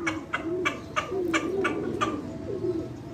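Pigeons flying over a crowded sky during a pigeon-flying contest coo in a steady series of soft, repeated calls, about six evenly spaced pulses, close and moderately loud with no talk.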